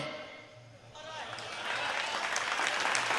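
Audience applause at a Hindi comedy poetry gathering (hasya kavi sammelan), starting softly and swelling into steady, dense clapping from a large crowd.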